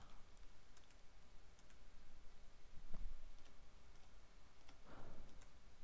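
Faint, sparse keyboard clicks as check amounts are typed into a point-of-sale computer, a few isolated keystrokes over a steady background hiss.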